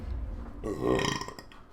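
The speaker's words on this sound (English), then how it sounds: "That's closer to what I had in mind in the previous attempt at burping." One drawn-out burp sounds close and fairly loud, rising and then trailing off over a quiet background, with no other talk.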